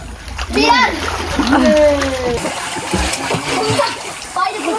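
Someone jumps into water at a farmhouse, with splashes and churning water close by, while children and adults shout and talk over the splashing.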